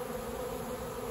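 A large honeybee swarm of over 70,000 bees fills the air with a dense, steady buzzing hum. It stays continuous and even with no talking.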